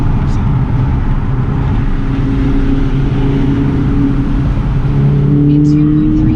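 BMW Z4 roadster engine revving up to about 6,500 RPM during a drive, a loud, continuous engine drone with rising tones toward the end and a voice speaking over it.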